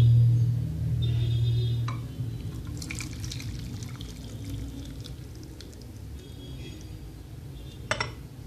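Hot water from boiled parsley is poured through a strainer in a home kitchen, making a steady, close splashing trickle that runs for several seconds, with a faint clink near the end.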